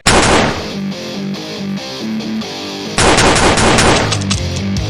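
A toy duelling robot firing rapid gun bursts, loud close machine-gun-like rattles in two runs with a brief lull between them.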